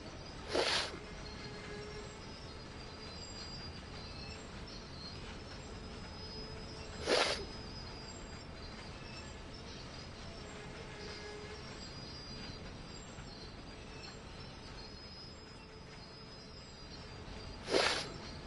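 A GE diesel locomotive in Train Sim World 3 rolls along at about one mile per hour on nearly full dynamic braking, a steady low rumble broken by three short, sharp squeals at roughly even intervals.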